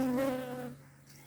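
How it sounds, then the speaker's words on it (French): Honeybees buzz around a busy hive bringing in pollen, a faint low drone close by with a steadier tone at first that fades toward the end, no voices. "Les abeilles sont belles."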